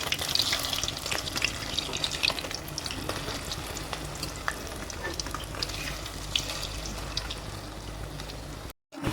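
Banana flower pakoras fry on a low flame, giving a dense, steady crackle and sizzle of bubbling oil, close and continuous with no voices and a brief dropout near the end.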